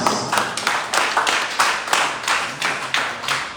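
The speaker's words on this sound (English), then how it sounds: "Let's clap for all our chiefs." An audience at the Ijan Day 2025 lecture in Ekiti claps loudly for the honored chiefs, a close, strong series of rhythmic clapping bursts repeating at a fairly steady pace.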